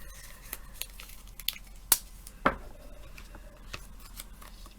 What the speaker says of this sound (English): now I'm going to take I'm going to tape this down with my purple tape